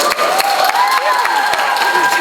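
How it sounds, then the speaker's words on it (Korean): An outdoor audience claps and cheers at a movie stage greeting in Busan, loud and close, with a few sharp claps standing out. "여러분 박수 한번 부탁드릴게요."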